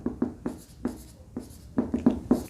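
Marker or chalk writing numbers on a board: a series of short, crisp scratchy strokes in an irregular rhythm, close and fairly loud, with no voices.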